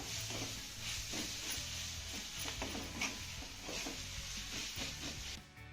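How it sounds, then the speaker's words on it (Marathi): Potato masala sautéing in a pan, a steady close sizzle with spoon stirring and scraping running throughout, then fading at the end. "आता हे सर्व साहित्य आपल्याला पुन्हा दोन ते तीन मिनिटं चांगलं परतून घ्यायचं आहे"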